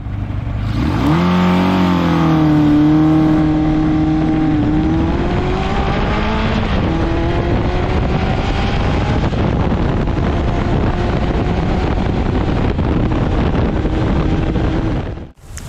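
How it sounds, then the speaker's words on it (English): Kawasaki KZ650 classic motorcycle, about 50 years old and corroded, runs steadily close by, its engine note rising in pitch early and again around the midpoint, then holding a loud, even drone with wind buffeting throughout until an abrupt cutoff. "let's hear a bit of the sound now of this engine"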